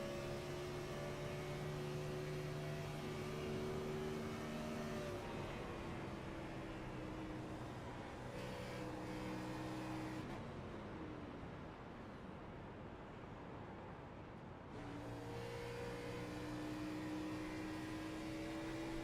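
Onboard engine sound from a race car in iRacing at Charlotte, a steady droning roar whose pitch climbs and falls through the laps, with a brief lift-off dip partway through and no talking.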